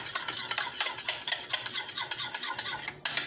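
Soy sauce marinade being mixed for barbecued fish, a steady wet stirring and scraping with rhythmic strokes, close and fairly quiet, with a brief bump near the end.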